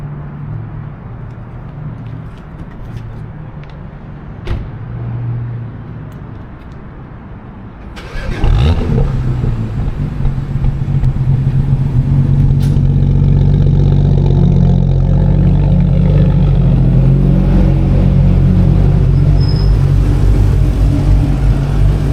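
A BMW E90 335i M Sport cranks and fires up abruptly, then settles into a loud, steady, close engine drone with slight revving that continues to the end.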